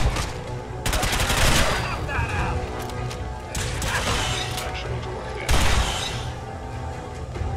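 Rapid bursts of AK rifle gunfire in Fallout 4, loud and close, with a few separate volleys breaking through continuous combat noise.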